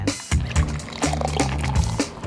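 Beer being poured into a glass, a short, close splashing and gurgling pour with uneven bursts of liquid, no speech over it.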